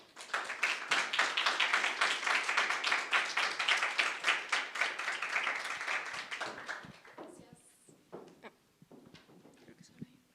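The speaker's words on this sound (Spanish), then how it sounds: "Démosle un aplauso y démosle la bienvenida." An audience at a book presentation claps in welcome for a speaker, a steady run of close, distinct handclaps lasting about seven seconds that fades to a few stray claps, with some voices mixed in.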